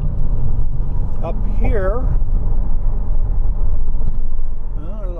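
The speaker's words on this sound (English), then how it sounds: "there's a lot of traffic both directions" Steady road traffic rumbles on the Harry Nice Bridge over Easter weekend, a low continuous drone of passing vehicles in both directions beneath someone talking close by.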